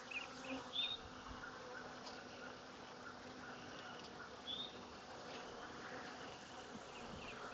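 Honeybees buzzing steadily nearby, a continuous droning hum with a few louder passes as individual bees fly close.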